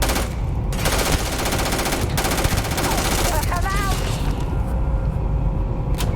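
Shotgun gunfire in the video game Starfield, a steady barrage of loud blasts filling the whole stretch, with a voice speaking over the shooting partway through.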